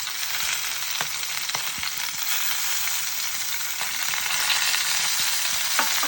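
Drumstick vegetables and green tomatoes frying in a pan with salt and turmeric, a steady close hiss of sizzling oil with occasional soft scrapes of stirring, alone and fairly loud.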